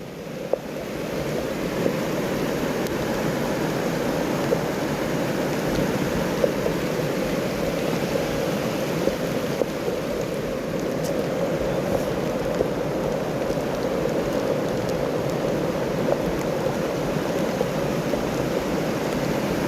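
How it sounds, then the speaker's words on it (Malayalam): Heavy rain pours steadily, a dense, loud, unbroken hiss that holds at the same level for the whole twenty seconds with no voices. "എൻ്റെ പ്രദേശത്തെ ഏറ്റവും ശക്തമായ മഴ പെയ്ത ദിവസമാണ് ഇന്ന്"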